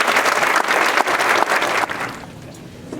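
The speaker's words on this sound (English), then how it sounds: "Let's get another round of applause." Audience applause at a jazz band concert: a dense, steady burst of clapping from a crowd that keeps up for about two seconds and then quickly thins out and fades.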